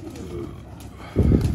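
Low, throaty pigeon coos rise in a short burst near the end, following a quieter stretch of soft rustling ambience.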